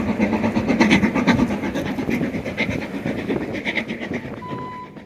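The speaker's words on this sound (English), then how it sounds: "You might actually be able to recognize this train, as it is the Harry Potter one." The Harry Potter steam train crossing the Glenfinnan Viaduct in the Scottish Highlands, a continuous rumble with rhythmic wheel clatter, steady and fairly close, and a faint whistle-like tone near the end.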